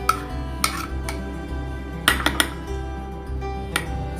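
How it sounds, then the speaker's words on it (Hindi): Chicken pieces going into a bowl for a Bengali-style chicken curry, with several sharp clinks of a utensil against dishes, a cluster in the middle and single taps at the start and end, close and clear with no talking. "अभी यहाँ पे मैं चिकन जो है मेरा वो मैं ट्रांसफ़र कर लूँगी।"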